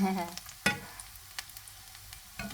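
Fish balls frying in hot oil while being stirred, with a steady soft sizzle, a sharp clack of a utensil against the pan and light scraping taps that recur throughout.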